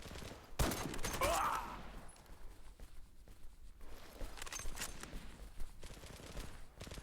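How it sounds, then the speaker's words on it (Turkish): Gunfire in the video game Zula comes as bursts of rapid shots, strongest early on and then lighter scattered volleys, with faint movement sounds between them. "Ben bakmadığım zaman tık tık tık sıkıyor."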